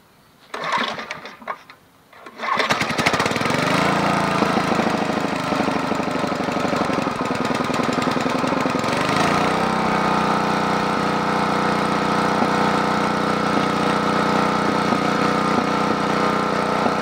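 A Generac 8838-0 portable generator engine sputters through a few rough starting bursts, then catches and runs loudly and steadily at close range. It keeps a continuous drone with an uneven, popping edge that shifts in pitch partway through.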